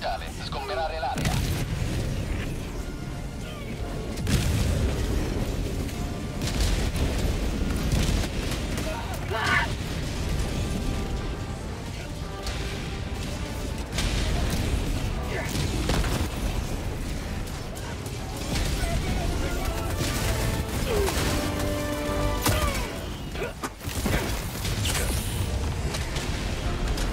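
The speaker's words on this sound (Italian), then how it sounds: "In arrivo! Sbarramento orbitale, sgomberare l'area." Dense series of heavy booms and explosions from an orbital barrage in Helldivers 2, with mechanical clatter and gunfire-like cracks, continuous and chaotic throughout, with voices shouting in the mix.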